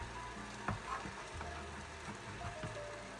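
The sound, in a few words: bacon (špek) frying in oil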